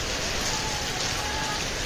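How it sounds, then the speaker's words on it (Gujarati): Heavy rain pours steadily and loudly as a dense, unbroken wash of noise, heard from where a bike rider has stopped to shelter. "જોરદાર વરસાદ ચાલુ થઈ ગયો છે."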